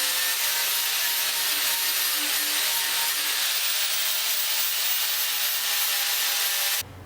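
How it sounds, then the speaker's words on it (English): A saw-steel knife blade is ground against a 120 grit wheel, giving a loud, steady, abrasive rasp with no pauses that cuts off abruptly just before the end. "we want to smooth some of those out with this 120 grit wheel"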